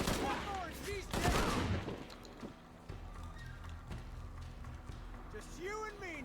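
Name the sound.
shotgun firing in Tomb Raider video game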